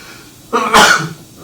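A single sharp sneeze, close and loud, with a brief intake of breath before the burst.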